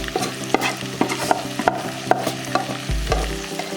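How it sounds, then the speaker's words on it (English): Half-boiled long grain rice being stirred and mixed with ingredients for homemade pumpkin rice, a series of scraping, clattering spoon strokes in a steady rhythm over a faint sizzle, close and fairly loud with no talking. "You just half boil it, and then you mix it to the ingredients, as you can see."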